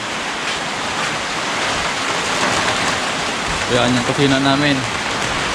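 Heavy rain pours down steadily in a rural home in Bicol during a power outage, a dense constant roar as someone speaks briefly over it near the end.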